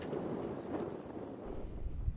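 Steady wind rumble buffets the microphone at Chatham Bay, Union Island, a continuous low roar with slight gusting swells and no voices.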